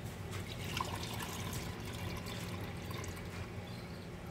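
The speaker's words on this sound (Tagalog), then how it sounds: "maghugas tayo ng rice" Long-grain rice being washed by hand in water, soft faint trickling and swishing liquid sounds that carry on steadily with no talking.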